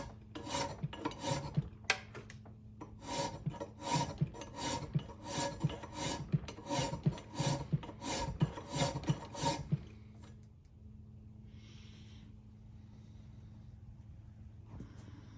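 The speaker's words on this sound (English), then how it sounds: "I'm using a safe edge here on this file to try to taper this breech area here." A safe-edge steel file tapers the breech area of a swamped flintlock rifle barrel in about fifteen rhythmic rasping strokes, close and crisp. It then stops, leaving a quiet room hum.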